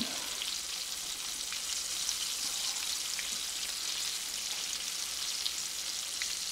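Thin pork tenderloin slices fry in a pan with a steady, bright sizzle that holds evenly throughout, alone and close.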